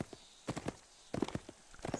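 Horse hooves clip-clop in the Fallen Earth video game, uneven clusters of hoofbeats across two seconds, fairly quiet and close, with no talk.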